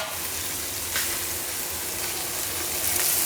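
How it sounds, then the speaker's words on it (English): Lamb shoulder with butter searing in a hot pan, giving a steady, loud, dense sizzle and crackle that carries on without a break up close, with faint stirring scrapes now and then. "we're going to render that down on all sides, throw in a little bit of butter, and then that lamb's going to be perfect"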